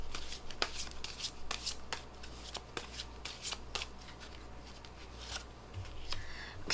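Tarot cards shuffled by hand at close range, a run of crisp riffling flicks and soft slaps in an irregular rhythm, fairly quiet, with no speech.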